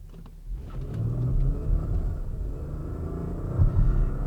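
An Audi A7 with about 100k miles launches hard off the line, its engine rumble swelling into a deep, sustained acceleration heard from inside the cabin, loud and continuous with a surge near the end.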